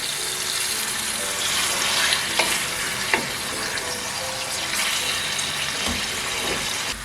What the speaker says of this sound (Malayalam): ഇറച്ചി ഇട്ട് കൊടുത്തിട്ട് നമ്മൾ ഹൈ ഫ്ലെയിമിൽ ഇട്ടിട്ട് നല്ലതുപോലെ ഇളക്കി കൊടുക്കണം.